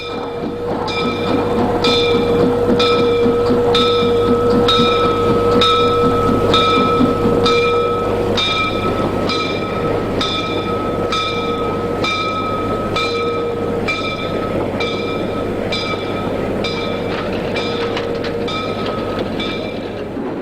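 A steam train rolls past steadily through a town in East Germany with rhythmic clickety-clack from the wheels over rail joints and a continuous mechanical hum, loud and close.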